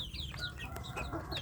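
Young Indonesian native chickens (ayam kampung) cluck and chirp continuously in a brief burst of overlapping high calls, close and moderately loud with no talking.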